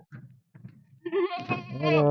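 A male goat lets out a loud, drawn-out bleat close by, preceded by a few softer low grunting sounds.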